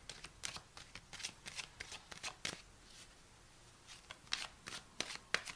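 Tarot cards are shuffled for a reading in a steady run of soft, quick flicks and riffles, close by and fairly quiet, with no voice over them.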